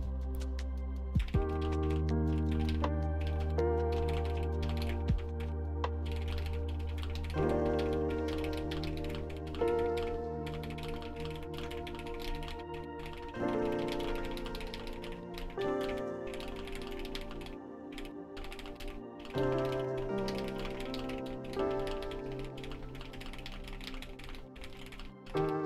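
Steady, rapid typing on a computer keyboard during a Nitro Type typing race, dense clicking keystrokes in bursts over a steady background hum, with no talking.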